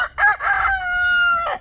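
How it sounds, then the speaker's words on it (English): A rooster crows once nearby, a loud, clear call with a few rough opening notes and then a long held, steady tone that trails off at the end, with no talk over it. "A rooster"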